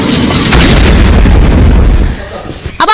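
A bomb blast tears through a Hamas tunnel, a loud sustained boom and roar that rumbles for about two seconds before dropping off into scattered bursts and pops.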